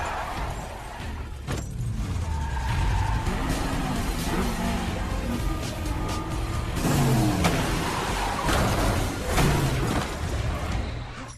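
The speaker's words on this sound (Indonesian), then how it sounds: "John dihadapkan dengan anak buah Abram yang mencoba menghentikannya dengan menabrakkan mobil mereka masing-masing." Cars in a John Wick film chase scene skid and squeal their tyres as engines roar, with heavy impacts and crunching collisions between vehicles, loud and continuous throughout with no talking.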